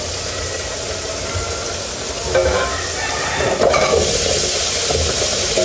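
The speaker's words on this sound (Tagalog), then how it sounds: "at ako'y magigisa na at magluluto na ng ating pangminuto" Meat, potatoes and carrots sautéing in a pan, a steady close sizzle with hiss and occasional stirring scrapes, running on its own without talk.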